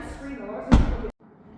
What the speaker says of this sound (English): So let's shut this door and we'll go to the front door next.